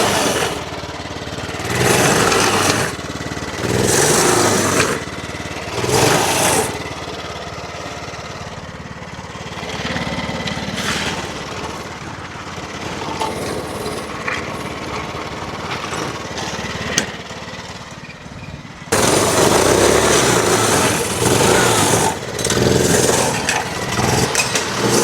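A small engine, warmed up after sitting unused for five years, being blipped on and off the throttle; loud rough revs rise and fall in bursts, with a steadier running stretch before the revving picks up again near the end.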